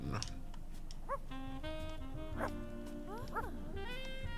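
A small dog yips, whines and gives short barks several times over sultry saxophone music, with bright, slurred cries rising and falling through the music.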